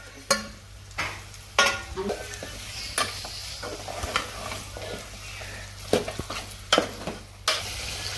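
Chopped onion sizzling in a hot pan as mutton curry is started, with a steady frying hiss broken by repeated sharp scraping and stirring clatters.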